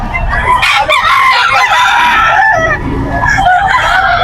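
Gamefowl stags and bullstags crowing at a busy pet market, several loud overlapping crows and clucks close by over a steady crowd din.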